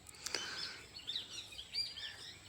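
Parrots call from a tree, faint high squawks and chirps scattered in short bursts at a distance, with no talking.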